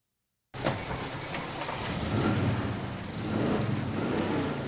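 A big V8 in a classic collector car rumbles steadily at idle, close and fairly loud, with a low throbbing drone that swells slightly midway, heard alone after a short silent start.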